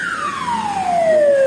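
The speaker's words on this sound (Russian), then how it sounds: "Скорая пробирается." A loud, close ambulance siren wails in heavy winter traffic in Yakutsk, its pitch sliding steadily downward over a brief moment, with faint traffic rumble beneath.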